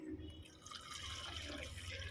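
Coffee pours steadily into a cup, a continuous close trickling and dripping stream at moderate level with faint background noise.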